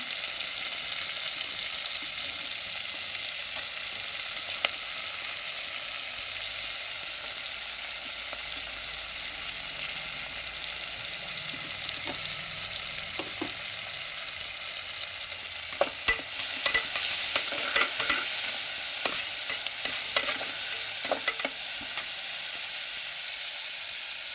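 Onion pieces, cloves and cinnamon frying in a pan for Kashmiri-style bagara rice, a continuous soft sizzle with occasional scraping stir strokes growing busier toward the end, no voices.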